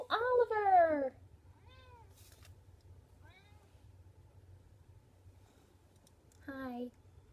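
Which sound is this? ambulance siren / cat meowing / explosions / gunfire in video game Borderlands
cat meowing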